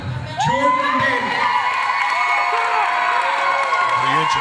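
A wrestling show crowd cheers, whoops and shouts loudly and without a break, with children's voices rising above the roar.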